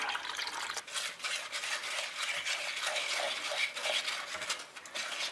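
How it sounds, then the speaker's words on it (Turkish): Milk and dry ingredients for a dessert are stirred in a pot, giving a soft continuous swishing with faint spoon scrapes, close and steady without talk. "Önce güzelce bir karıştırıyorum. Süt ve diğer malzemeleri karıştırdım."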